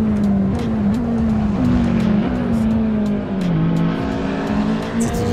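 A Ferrari's engine revs in Forza Horizon 5, a loud, steady droning tone that climbs and drops with gear changes. It stays close and continuous, with faint tire and road noise beneath.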